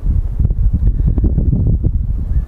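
Wind at Lake Kedrozero on a fishing trip, a steady low rumble buffeting the microphone with gusty swells, loud and continuous throughout.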